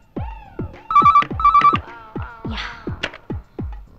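Mobile phone ringtone in a Telugu film: a loud, rhythmic electronic melody of repeating plucked notes and bright beeps, close and clear with no talking over it.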